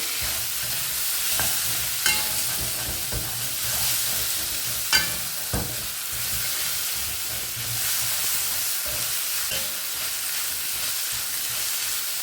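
A steady sizzle of chopped tomatoes frying in a pan for a baby corn pepper fry, with occasional clinks and scrapes of stirring over the continuous hiss.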